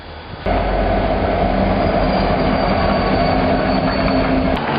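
A freight train rolls past close by, its loud, steady rumble and rattle of wagons starting abruptly and running on, with a sustained squeal of wheels over it and no voices.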